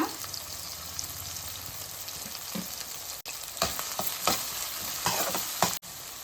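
Onion and tomato pieces frying in a pan, a steady soft sizzle with occasional stirring scrapes and clicks, two brief dropouts, close and fairly quiet, no talk.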